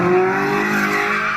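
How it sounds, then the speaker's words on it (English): A 600-horsepower 2019 Audi R8 sports car in custom matte black drives past loud and close, its engine note holding a steady high drone with a faint tire squeal over the brief pass. "If Trae wasn't on the court, he was whipping the Audi."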